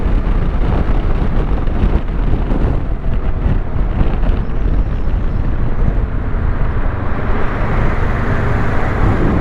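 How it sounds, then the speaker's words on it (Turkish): Heavy wind buffets the microphone in a continuous loud roar while riding a CF Moto 650 MT motorcycle on a long road trip, with a low engine drone underneath and no talking. "Rüzgar biraz var ama"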